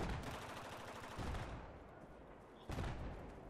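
Bursts of automatic gunfire in Battlefield 4 on the Caspian Border map, rapid rattling shots aimed at the player, dense and sustained with a few sharper volleys, fairly faint overall with no talking.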